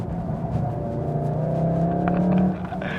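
Volkswagen Golf R engine revving close by, a loud rising mechanical drone with a strong swell of acceleration before it eases off near the end.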